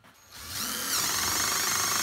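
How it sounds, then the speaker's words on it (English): A RYOBI impact driver starts drilling into a cold 2x4 in freezing conditions. After a short quiet moment a steady whirring power-tool sound comes in close up and runs loud and continuous to the end, with no talk. "Just see if you can start drilling. Try with the RYOBI since it's on there."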